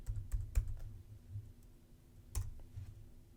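A password is typed on a computer keyboard as a quick run of soft key clicks, then a pause and a few more taps. It is near and quiet, with no voices.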